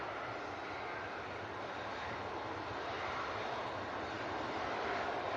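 A Ryanair jet airliner heading out for departure at Manchester Airport in stormy weather, a steady broadband engine roar that swells slightly toward the end, heard at a distance with no voices.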